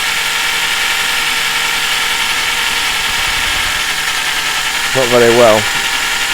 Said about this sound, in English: we'll just do a little bit of drilling together